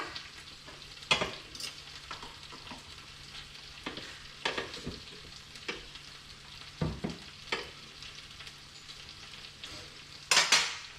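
Butter melts in a frying pan with a low sizzle, broken by a few scattered utensil clinks and scrapes nearby, with no talking.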